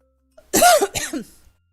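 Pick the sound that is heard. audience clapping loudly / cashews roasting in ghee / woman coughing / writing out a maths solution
woman coughing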